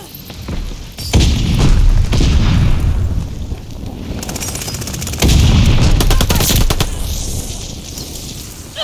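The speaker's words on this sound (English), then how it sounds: "Tossing grenade." Grenade and gunfire blasts in Call of Duty: Vanguard multiplayer, with two heavy booming explosions rumbling loudly over a constant din of rapid shooting and battle noise.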